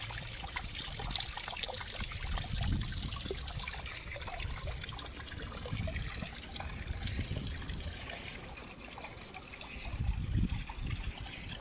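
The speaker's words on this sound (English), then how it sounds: "I really like this waterfall." Water from a small waterfall trickles steadily into a garden nature pond dug into clay and topsoil, a continuous soft splashing that stays even throughout, with a few slightly louder surges.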